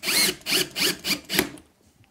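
A power drill drives a screw into an epoxy and hornbeam bowl blank set up for turning. Five short, close whirring bursts come in a quick, even rhythm, then stop and leave near silence.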